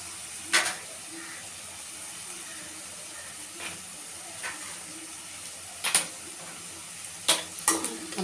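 Ridge gourd peel sautéing in oil, with a soft steady sizzle throughout and a few sharp clinks of stirring scattered through it. No one speaks.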